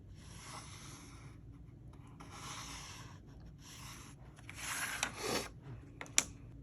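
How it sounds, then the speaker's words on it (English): A pencil scrapes a straight line across the wooden soundboard of a homemade box ukulele, giving soft scratchy strokes in short bursts with a sharper tap near the end, close and fairly quiet with no talk. "we'll draw a straight line across, keeping it parallel to the box"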